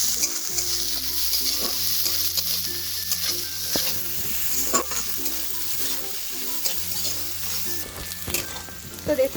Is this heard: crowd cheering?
no